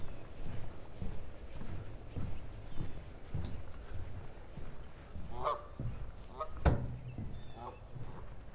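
A family of geese with goslings honks a few times at moderate distance by a lake, sharp calls over a soft background of rustling and water.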